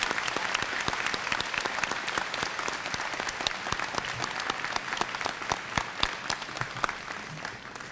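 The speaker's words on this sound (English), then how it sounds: "Let's show them our appreciation with a round of applause." An audience at a 2018 high school graduation ceremony applauds, a dense, sustained clapping of many hands with sharp individual claps standing out, steady from start to finish with no talking.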